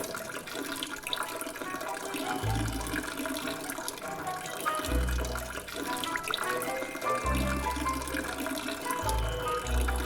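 Water runs steadily from a shower in the video game Manual Samuel, a continuous hissing spray beneath a muffled backdrop of game music.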